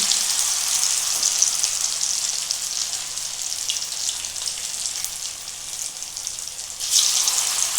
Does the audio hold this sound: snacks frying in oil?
yes